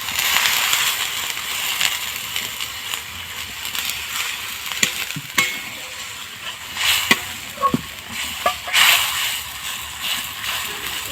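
A spoon stirs a food mixture in a pan after a little water is added, making a steady close sizzle with scattered scrapes and clicks against the metal throughout.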